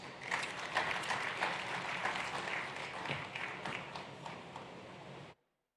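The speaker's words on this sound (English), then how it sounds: "A round of applause." Sustained applause from a conference audience at a presidential dialogue event, steady dense clapping for about five seconds before cutting off abruptly.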